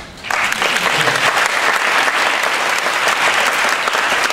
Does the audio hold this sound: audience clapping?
yes